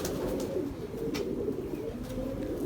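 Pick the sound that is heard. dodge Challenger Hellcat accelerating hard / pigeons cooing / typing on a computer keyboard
pigeons cooing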